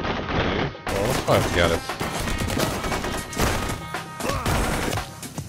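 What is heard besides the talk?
gunshots in video game Blue Estate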